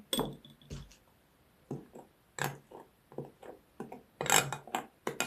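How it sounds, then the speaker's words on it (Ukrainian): A spoon scrapes and knocks against a bowl in short irregular strokes while mixing shortcrust dough made with oil, with brief pauses between bursts of clinking and scraping. "Тепер буду перемішувати, перейду на ложку."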